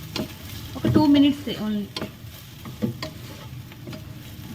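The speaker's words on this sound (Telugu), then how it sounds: "మిల్ మేకర్స్ యాడ్ చేసినా కొంచెం సేపు ఇలా ఫ్రై చేసుకోవాలి" Soya chunks (meal maker) fry in a pan, making a close, steady sizzle broken by a few scraping stirs, with a short bit of talk near the beginning.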